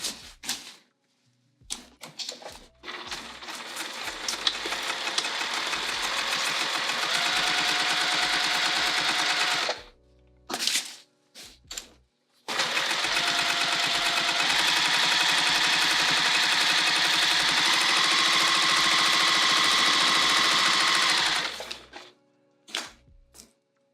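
A sewing machine stitches down a bag in two long continuous runs of rapid mechanical whirring, each lasting several seconds, separated by short pauses with small clicks and handling noises.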